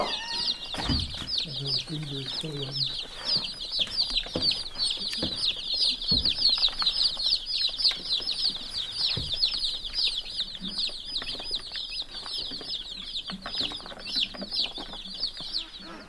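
Beef chickens in a brooder, a dense continuous chorus of high peeping and clucking from many birds close by, with occasional wing flutters and scratching.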